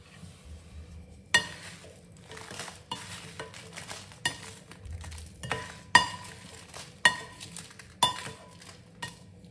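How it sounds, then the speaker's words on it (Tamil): Roasted dried chillies are scraped from a pan onto a plate, with a spoon clinking and tapping against metal in a series of sharp, regular knocks and rustling scrapes in between. "இதை வேறு பிளேட்டுக்கு மாற்றிடலாம்."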